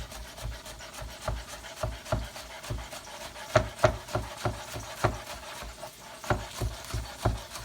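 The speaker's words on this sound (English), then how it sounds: "Let's finish cutting up the scallion." A knife chops scallion on a cutting board in a steady run of crisp, evenly spaced knocks, close and fairly loud, with no voices.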